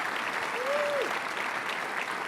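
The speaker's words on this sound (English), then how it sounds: "How about a round of applause for this team?" Steady audience applause fills a large keynote hall at a Dreamforce 2023 business conference, a dense, even wash of many hands clapping with a brief whistle-like tone near the start.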